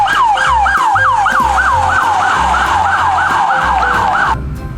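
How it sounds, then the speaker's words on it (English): A toy police car plays its siren loud and up close, a rapid repeating electronic wail of about a dozen rising sweeps that cuts off near the end, over a faint low rumble. "Wow, this is police car"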